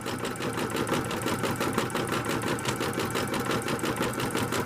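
Sewing machine stitching steadily with a fast, even mechanical rhythm, running close and continuous after its bobbin thread was replaced.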